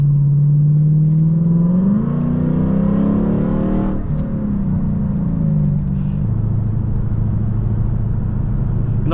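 A Lexus LC 500 sports car accelerating at about half to three-quarter throttle, its deep engine note rising steadily in pitch through a gear before dropping back, loud and close throughout with no talk.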